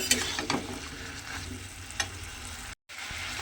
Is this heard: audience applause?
no